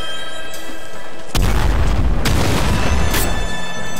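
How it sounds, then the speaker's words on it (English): Nuke launcher detonation in the game Nuclear Throne, a loud, deep rumbling boom that erupts suddenly after a quieter stretch of game noise and sustains with a second burst, no talk over it. "This nuke launcher is interesting, but it scares me."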